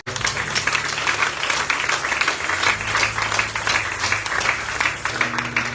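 A church congregation applauding for Jesus, loud and dense continuous clapping close by, sustained evenly for several seconds with a low hum and faint voices beneath.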